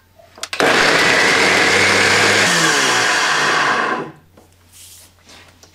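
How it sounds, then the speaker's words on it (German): A kitchen blender purées a vegan herb quark mixture, starting with a short burst and then running at a loud, steady roar for about three and a half seconds before cutting off and leaving quieter room sound. "Und das Ganze wird jetzt mit dem Mixer gründlich, erst langsam und dann auf höherer Stufe durchpüriert."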